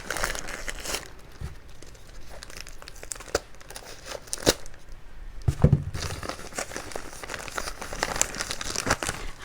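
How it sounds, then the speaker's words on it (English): Plastic and paper wrapping crinkles and crackles up close as a packaged Dendrobium orchid plant is unwrapped, with irregular bursts of rustling, a few tearing sounds and small handling knocks. "unwrap this one"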